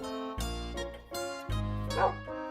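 Dog sounds from a Minecraft-style game, a few short bursts of bark-like, whining tones set against a sustained musical backdrop, close and fairly loud.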